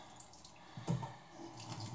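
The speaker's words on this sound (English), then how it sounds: "I am just going to turn on the hot water a little bit." Hot water runs from a bathroom sink tap, a faint, soft trickle and splash heard quietly at a distance for a couple of seconds.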